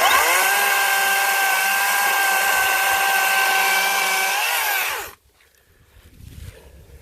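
A Makita 18 volt cordless chainsaw runs at a loud, steady high whine for about five seconds, held one-handed while cutting wood, then stops abruptly, leaving faint rustling.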